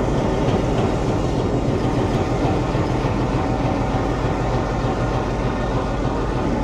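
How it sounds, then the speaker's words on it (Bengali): Tungipara Express train locomotive standing at a station platform, giving off a loud, continuous rumble and clatter that carries steadily throughout with no talk over it. "এই যে আমাদের টুঙ্গিপাড়া এক্সপ্রেসের লোকোমোটিভটা আপনাদেরকে একটু দেখায়।"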